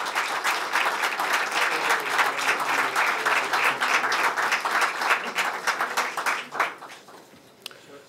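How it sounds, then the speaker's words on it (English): An audience gives dense, sustained applause for an award recipient at a leadership award ceremony, steady clapping that thins and fades near the end. "a warm across-the-border round of applause for Dr. Jakowski, George Jakowski."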